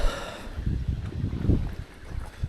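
Wind gusting at a pond during fishing, with low buffeting rumbles that swell and fade against the microphone in uneven bursts, no one talking.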